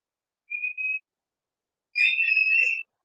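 Two whistles cut through silence: a short, steady whistle held briefly, then after a pause a longer, wavering blast with a second tone.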